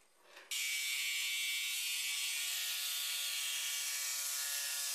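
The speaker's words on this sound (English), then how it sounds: "I cut it out using the jigsaw" A jigsaw cuts a circle out of plywood: after a brief quiet start it kicks in abruptly with a loud, steady, high-pitched mechanical whine and buzz that holds evenly to the end.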